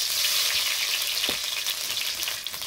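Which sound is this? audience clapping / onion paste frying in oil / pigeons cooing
onion paste frying in oil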